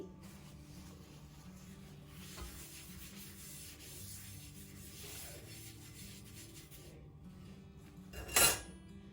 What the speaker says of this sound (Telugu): దోశ ప్యాన్ కొద్దిగా వేడయ్యాక ఒక్క చుక్క ఆయిల్ వేసి ప్యాన్ అంతా ఒక్కసారి ఆయిల్ పట్టేలా రుద్దుకోండి